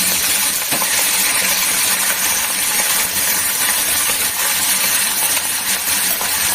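Pomfret fish, two at a time, fry in hot oil in a pan, giving a loud, steady, hissing sizzle with small crackles that runs unbroken throughout.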